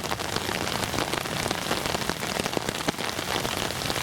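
Heavy rain pounding down outdoors, a dense, steady hiss of drops hitting surfaces with scattered sharper splats, loud and unbroken with no voices.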